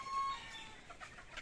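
Chickens clucking softly while grazing on green grass in an open, shaded farm yard, a steady low murmur of several birds close by with no one talking.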